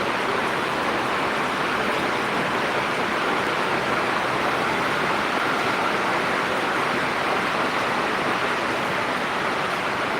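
Rain falls steadily outdoors, an even, unbroken wash of hiss at moderate level with no distinct drops or voices.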